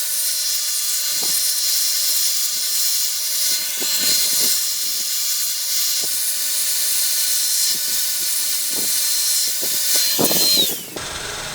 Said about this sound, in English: now we need to run these through the sander, and I'm going to set up my bench sander for that.